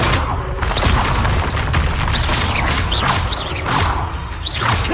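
Confringo fire spell explosions in Hogwarts Legacy, a rapid series of loud booming blasts with whooshing bursts, repeating roughly every half second, close and dense.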